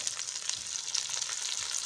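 Cut okra frying gently over a low flame in a pan for bhindi masala, giving a steady, even sizzle that holds at the same level throughout, with no talk.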